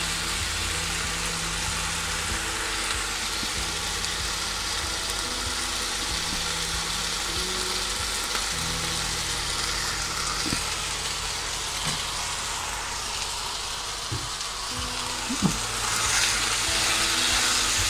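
Cream poured onto sautéed onions in a frying pan for a curry chicken dish, a steady, close sizzling hiss with faint hum and occasional clinks of a utensil.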